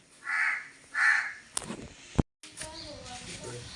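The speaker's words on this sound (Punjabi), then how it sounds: "ਕਾਂ ਕਾਂ ਕਰਨ ਦੇ ਚਿੜੀਆਂ ਚੀਂ ਚੀਂ ਕਰਨ ਡੀਆਂ" Two loud caws sound in quick succession, followed by a sharp knock and some chatter and background noise.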